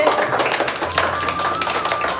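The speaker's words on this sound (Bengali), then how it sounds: "সবাই জোরে একটা হাততালি।" A group of students at a school claps together, a thick burst of many overlapping hand claps sustained throughout, fairly loud and close, with a faint tonal hum underneath.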